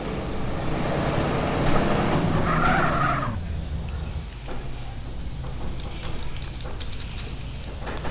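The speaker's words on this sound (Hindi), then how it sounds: "अब भगा लो गाड़ी को" Car in GTA San Andreas pulling away with a long tire skid and revving engine in the first three seconds, then quieter game ambience with scattered clicks and thuds.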